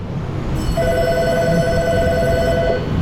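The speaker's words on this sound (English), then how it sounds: "Phone's ringing." A telephone rings in an auto repair shop, one bright electronic trill lasting about two seconds over a background of shop hum.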